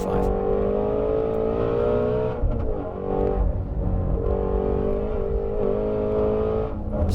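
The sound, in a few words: 2019 Ford Mustang Shelby GT350 driving on a race track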